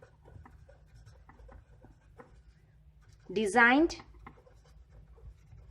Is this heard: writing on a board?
yes